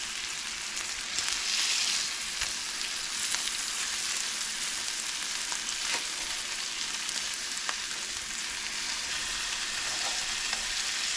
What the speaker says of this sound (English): And then we're gonna flip it. Just long enough for it to sear onto the meat.